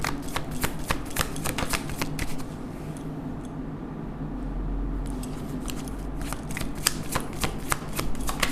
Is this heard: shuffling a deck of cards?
yes